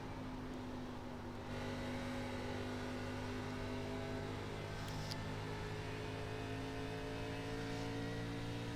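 A race car engine in the iRacing game runs on the oval at Nashville in an ARCA Menards Series race, a loud sustained drone with steady harmonic tones and a brief higher surge partway through.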